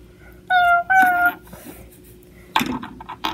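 Domestic cat meowing twice in quick succession, two clear close tonal cries, followed after a pause by a brief rustling burst.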